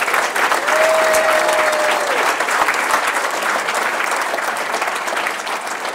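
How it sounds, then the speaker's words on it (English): Applause from a large banquet audience at a high school sports hall of fame dinner, a dense sustained roar of clapping that fills the room and eases slightly toward the end. "let's give them a nice round of applause"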